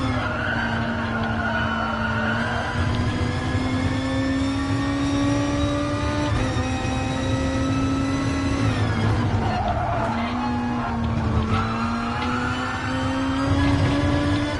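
A race car engine in Gran Turismo Sport at Laguna Seca drones continuously at high revs, pitch rising and falling as it shifts and accelerates, with a faint turbo whine over the roar.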